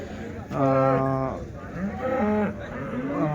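Cows low repeatedly at a busy Sunday cattle market in Chintamani, two long, loud harmonic moos close by with a shorter third call at the end, over a murmur of background voices.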